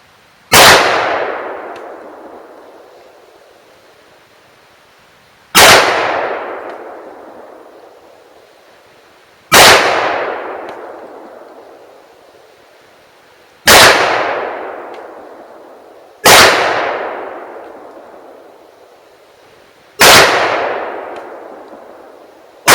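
Glock 23 pistol in .40 S&W firing 135 grain Nosler bullets: six loud, sharp shots, evenly paced a few seconds apart, each cracking close by and trailing off in a reverberant echo.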